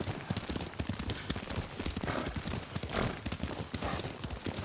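Horse hooves clip-clop in a steady, brisk rhythm as a rider travels in the video game Ghost of Tsushima, close and continuous, with faint voices in the background.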